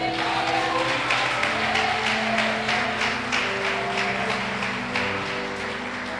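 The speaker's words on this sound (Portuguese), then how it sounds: "vamos aplaudir mais uma vez" Church congregation applauding together, dense sustained clapping filling the room at steady volume for several seconds, with some voices and a held musical tone underneath.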